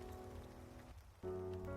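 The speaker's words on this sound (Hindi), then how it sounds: "बारिश बाहर अभी भी बेरोक गिर रही थी।" Rain falling steadily outside a bus, as a faint, even patter under soft background music, dipping briefly midway before resuming.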